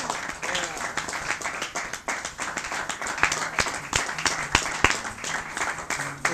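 A jazz club audience at Blues Alley in Washington, DC applauds after a set, with dense clapping mixed with scattered sharp claps and a voice talking over it.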